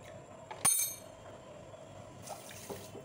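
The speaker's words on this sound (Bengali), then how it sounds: "2 কাপ জল দেব।" Water for sugar syrup is poured into a cooking pot. A single faint clink is followed by a brief soft trickling pour, heard close but quiet with no talk.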